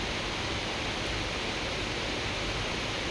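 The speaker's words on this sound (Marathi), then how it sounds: "तिकडून असं खाली पडतं पाणी" Heavy Mumbai monsoon rainwater pouring down into a flooded balcony, a steady dense wash of splashing water that runs unbroken and fairly loud throughout.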